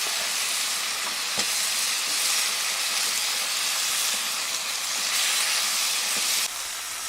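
Eggs boil in a pan on a camp stove outdoors, giving a continuous loud hiss of burner and bubbling water with a few faint knocks, steady throughout before dropping slightly near the end, with no talking.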